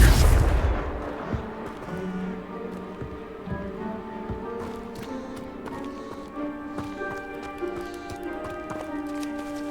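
In Hogwarts Legacy a Confringo spell bursts with a loud broadband blast that decays within the first half second. Soft game music with scattered light taps and thuds follows.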